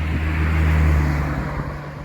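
Steady road traffic with cars passing continuously nearby along a route beside wide water on the Camino de Santiago, a loud constant engine and tyre rumble with no talk.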